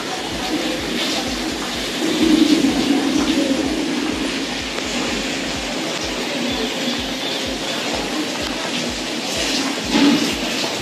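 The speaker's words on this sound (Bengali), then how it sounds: "বৃষ্টি হয়েই চললো।" Steady rain falls outside among garden trees on a Shravan morning, a broad, continuous wash of drops with a low rumbling undertone and a few slightly louder swells, no talking.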